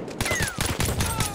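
SMG fire in Battlefield 1, a rapid burst of closely spaced gunshots, loud and near, with a quick stuttering rhythm over about a second.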